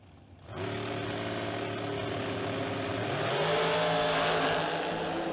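Dragsters at a drag racing event launch at full throttle, an engine roar snapping in abruptly and holding loud and steady, the pitch climbing as the run continues.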